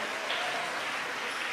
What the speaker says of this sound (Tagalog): Malakas sa palakpak para sa mahal na Panginoon.